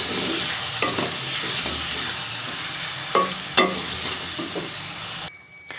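Chicken pieces with freshly pounded ginger-garlic paste sizzle steadily in hot oil, with a few sharp spatula scrapes and knocks as the mixture is stirred, close and fairly loud, before cutting off abruptly near the end.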